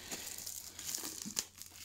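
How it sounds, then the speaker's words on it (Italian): Cellophane wrap peeled off a boxed Xbox One copy of Cyberpunk 2077, giving close, continuous crinkling and crackling with a sharper tear near the middle, heard alone without talk. "Oh, togliamo il cellophane, mettiamolo lì."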